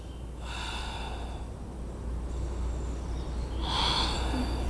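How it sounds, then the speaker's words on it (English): Slow, deep breathing held through a yoga pose during a guided practice, with two soft airy breaths, one at the start and a fuller exhale near the end, over a quiet room hum. "3 deep breaths."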